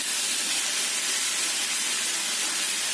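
Chicken and carrots sautéing together in a home-kitchen pan, a steady dense sizzle and hiss that runs unbroken and fairly loud throughout.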